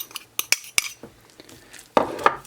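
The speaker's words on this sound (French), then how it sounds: "Et là pareil on mélange." A utensil stirs and clinks against a bowl while tuna is mixed into a potato fritter batter, a few sharp scraping taps close up with quiet pauses between them.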